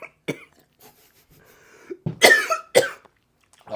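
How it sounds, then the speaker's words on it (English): A person coughs hard in a few close, loud bursts after smoking ganja, with short pauses between the fits and no talking. "I'm a cougher."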